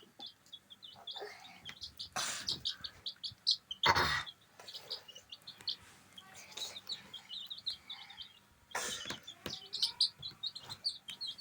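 Chicks cheep constantly in high, rapid peeps as they eat grain, with a few louder thumps and scratches mixed in as they peck nearby.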